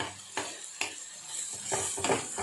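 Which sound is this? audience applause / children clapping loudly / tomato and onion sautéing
tomato and onion sautéing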